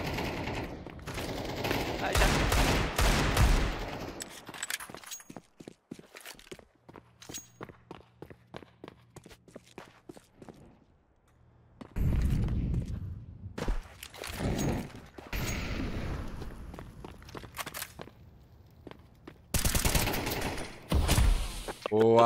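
Bursts of rapid gunfire and single shots from Counter-Strike on the Mirage map, mixed with running footsteps, with quieter pauses between volleys.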